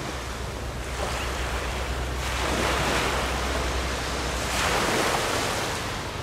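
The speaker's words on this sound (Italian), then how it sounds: "vi facciamo sentire proprio il suono delle onde" Adriatic Sea waves break on the shore at Porto Recanati at sunset, a steady close wash of surf that swells twice into louder crashes, with no voices.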